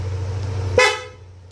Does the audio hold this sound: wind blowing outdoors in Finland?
no